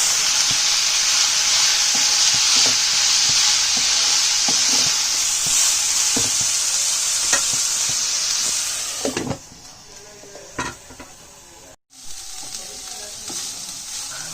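Onions sautéing in a pan for Kerala kadala curry, a loud steady sizzle with stirring scrapes, easing off near the end after a brief break.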